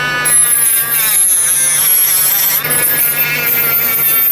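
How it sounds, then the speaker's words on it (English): A Dremel rotary tool whines at a high, steady pitch as it trims the plastic bumper of an SCX24 RC crawler, close and loud, with a brief dip in the middle. "trim this bumper a little bit, but that's no big deal because we got a Dremel"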